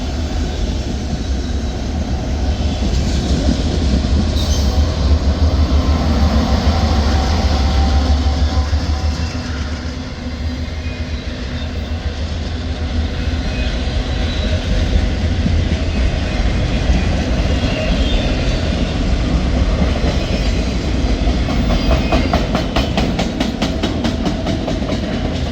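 Norfolk Southern freight train with a DPU locomotive rolling past on an elevated curve, a loud continuous rumble of engines and wheels with rhythmic clickety-clack of cars building near the end.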